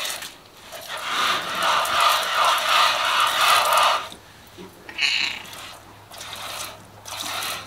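A cat meows repeatedly in drawn-out, insistent cries, close by, during hand milking, with some milk splashing and mechanical noise in the background.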